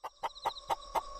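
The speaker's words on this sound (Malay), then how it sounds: "Sayup-sayup terdengar bunyi ayam berkokok dari arah reban" A rooster crows faintly from a coop about 15 metres from a hut in rural Sik, Kedah, in a strange drawn-out call. Five evenly spaced, fairly distant calls come one after another with no talk.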